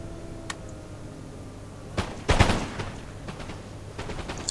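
A musket infantry volley in Empire Total War, a sharp burst of overlapping gunshots followed by scattered crackling shots fading into the battlefield background.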